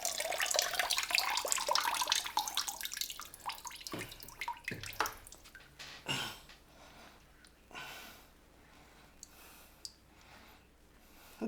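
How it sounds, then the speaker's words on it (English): Bluetooth speaker, a SONGLOW SL01, lowered into water: splashing and sloshing at first, then scattered clicks, drips and bubbling bursts that fade into quieter, intermittent water sounds, with no talking. "let's go ahead and submerge this and see how it works"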